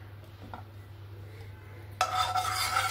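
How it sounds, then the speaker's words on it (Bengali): A spoon scrapes and rubs against a kadai while ghee is spooned in for semolina halwa. It starts as a quiet hum, then a sudden, bright metallic scraping runs for the last second, close and with no talk. "2 চামচের মতন ঘি দিয়ে দিলাম"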